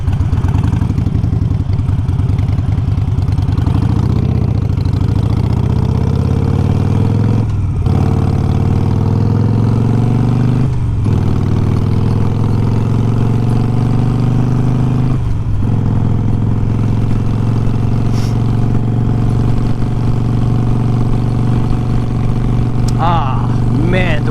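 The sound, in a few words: Harley-Davidson Iron 883 motorcycle engine running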